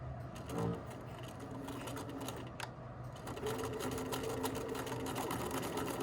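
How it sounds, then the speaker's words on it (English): Domestic sewing machine backstitching and then stitching a dart in a garment, a steady close whirring hum of the motor and needle that runs continuously for several seconds at moderate level, with no voices. "I'm gonna go ahead and backstitch."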